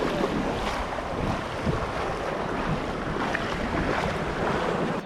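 Ocean surf at a pink sand beach at Lookout Cay, Lighthouse Point, a steady broad wash of water mixed with gusty wind buffeting the microphone, constant and fairly loud with no voices.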